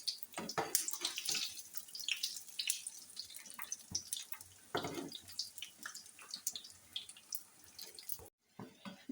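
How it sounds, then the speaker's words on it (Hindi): Besan dahi bade fry in oil over a low flame, giving a continuous, close patter of crackling and popping bubbles with uneven bursts that cut off abruptly near the end. "इस तरह हमने फ्राई करने हैं"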